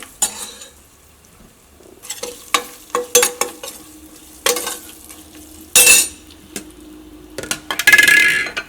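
Ginger, green chili and garlic hit a hot pan and sizzle in bursts, with a spoon stirring and scraping against the metal, clinking now and then, close and fairly loud with quiet gaps between.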